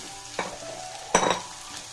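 Chow mein noodles stir-frying in a pan, two short bursts of sizzle and scraping as the noodles are tossed, quiet between them.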